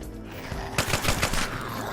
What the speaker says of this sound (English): Rapid fire is awesome